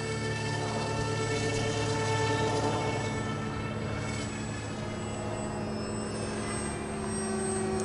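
A radio-controlled foam F-18 model jet, flying high alpha on rudders alone, drones steadily overhead with a continuous whining, buzzing engine tone at moderate distance, with no talk.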